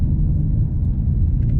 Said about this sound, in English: I love loud exhaust, as you can hear my AWE track exhaust